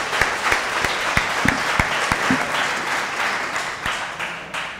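Audience applause for a moderated panel discussion at a team event, steady dense clapping from a crowd with a few sharper claps standing out, fairly loud and close.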